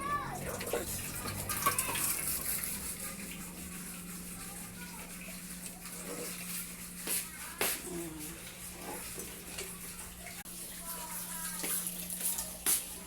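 Water pours steadily into a cooking pot of rice, a soft continuous gushing with a few splashy bursts, fairly faint and close by.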